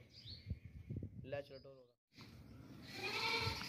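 A two-toothed sacrificial goat bleats once, a short wavering call at a livestock market, between stretches of nearby talking and background chatter.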